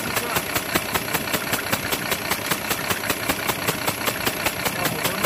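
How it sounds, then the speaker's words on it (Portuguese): A car engine idles steadily after its fifth piston is reactivated, a rough droning hum punctuated by evenly spaced sharp ticking knocks, close and fairly loud throughout. "Abriu o quinto pistão, nota que o motor mudou o ronco."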